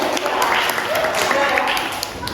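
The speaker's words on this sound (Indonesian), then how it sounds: "Oke, tepuk tangan sekali" A classroom of pupils claps together, a dense burst of hand claps that carries on steadily for a couple of seconds.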